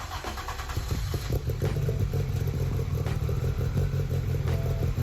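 The engine of a Ford RS200 Group B rally car gives a deep, rough, loud idle with uneven lumpy pulses, mechanical clatter and some light revving.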